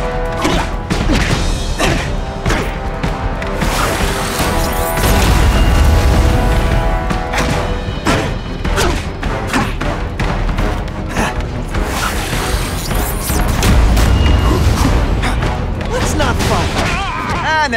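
Weapons being smashed and destroyed in The Amazing Spider-Man 2 game: a loud, dense run of crashes, thuds and impacts over steady music, with heavier booming bursts, and speech mixed in.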